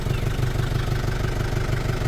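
Suzuki Swift engine idling steadily, close and even for the whole moment, with no talk over it.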